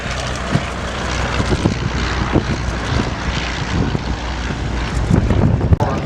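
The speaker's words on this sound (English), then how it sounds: "Now the first of these aircraft, the Parnell Elf, came from 1929." A 1929 Parnall Elf vintage biplane's engine runs steadily at a vintage airfield, a continuous broadband drone with wind buffeting the microphone and a few thumps, growing slightly louder toward the end.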